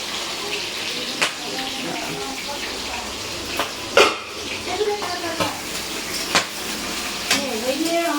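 Chopped onion and green chilies fry in a pan after a tempering of nigella seeds, giving a soft sizzle mixed with stirring scrapes and clinks, with occasional voices in the background.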